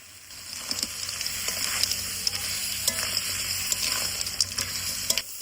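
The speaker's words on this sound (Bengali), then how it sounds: "এবার শালুক ফুলের ডাটার সঙ্গে কিন্তু বেশ খানিক্ষণ ধরে ভালোভাবে কষে নিব" Snails sautéed with water lily stalks in a pan, a steady loud sizzle with repeated scraping stirs clicking at irregular intervals and no voices.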